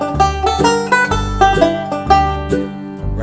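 A banjo lick played from a scale position, a quick bright run of picked notes with slides, close and loud, with no talking.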